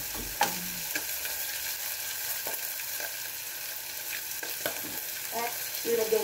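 Fish sizzles and fries in a pan while a bamboo utensil stirs and scrapes, giving a steady close crackle with scattered clicks and knocks from the stirring.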